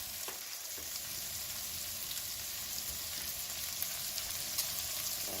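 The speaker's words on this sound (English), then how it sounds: "So, okay, so the onions are on. Just going to put a little bit of garlic in there." Onions and garlic frying in a cast iron skillet, a steady close hiss of sizzling oil with faint crackles throughout and no talking.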